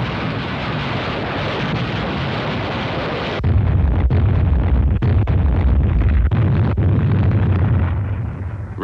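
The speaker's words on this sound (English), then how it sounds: "The assault troops were preceded by a rocket barrage directed against the area behind" A rocket barrage pounds the area behind the landing beaches at Palau, rolling as a loud continuous roar that deepens into heavy booming, with sharp individual blasts breaking through toward the end.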